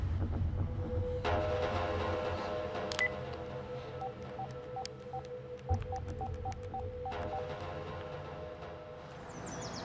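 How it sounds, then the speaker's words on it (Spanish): Telephone dialing tones sound in a TV drama scene: a short series of evenly spaced keypad beeps over a low steady hum, fairly faint, with no speech. "Voy a llamarlo por teléfono."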